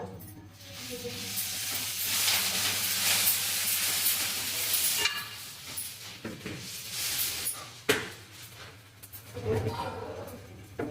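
Spices for a homemade chutney tempering in hot oil, a steady broad sizzling hiss that runs throughout with some stirring and a faint voice underneath.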